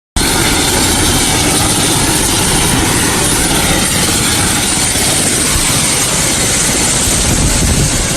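Loud, continuous engine roar with heavy rotor-like rumble, as from a helicopter flying nearby, steady throughout without letup.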